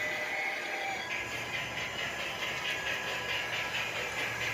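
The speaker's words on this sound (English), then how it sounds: "There's the train." A Lionel toy train runs around a home layout with a steady, quiet mechanical hum and rhythmic light clicking of wheels on track, alone without talk.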